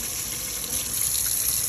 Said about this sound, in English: turn on your cold water, let it run on your wrist.